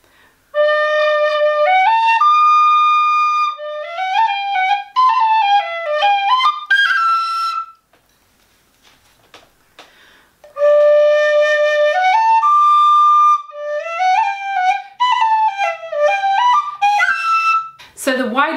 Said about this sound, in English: If you just compare my slightly squashed, very thin Generation whistle with this big, sturdy, wide Chieftain, bit of a sound comparison for you.